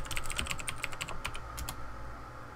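Quick bursts of keystrokes on a computer keyboard as a password is entered during an Ubuntu Server 20.04 login, close and crisp, a short flurry of taps then a few final presses.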